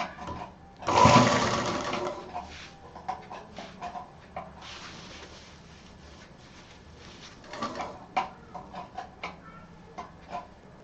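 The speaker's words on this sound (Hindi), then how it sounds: "बस उसी पे हमें मशीन चलानी है।" A sewing machine runs along the edge of a homemade fabric travel bag, with one loud, close burst of rapid stitching followed by short, intermittent runs and handling clatter, and chickens clucking faintly in the background.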